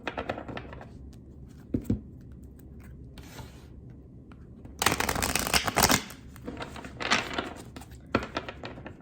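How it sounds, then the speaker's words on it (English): Tarot cards are shuffled in repeated riffling bursts at close range: a brief flutter early on, then a longer run of crisp, dense card rustling and snaps. "what happened is not me shuffling cards well"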